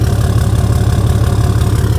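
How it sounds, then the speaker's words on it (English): A Ford F-150 pickup with the 2.7 EcoBoost engine runs with a loud, open-sounding exhaust, a steady throbbing low rumble heard up close with no talking. "this exhaust, listen to this. That sounds like it's wide open."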